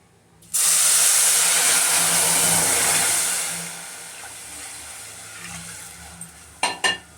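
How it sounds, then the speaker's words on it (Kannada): About three glasses of hot water are poured into a pan of roasted vermicelli for upma, setting off a sudden loud steamy hiss that fades over a few seconds, then a couple of brief utensil clinks. "ಇವಾಗ ಇದು ಬೇಯೋಕ್ಕೆ ಬಿಸಿನೀರು ಹಾಕ್ತಾಯಿದ್ದೀನಿ, 3 ಗ್ಲಾಸ್ ಅಷ್ಟು."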